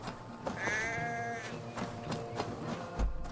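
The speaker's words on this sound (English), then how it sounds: "The sheep follows my whistle" A single sheep in the video game Assassin's Creed Valhalla gives one clear wavering bleat, fairly close, followed by faint footsteps and a soft thud, with no talking.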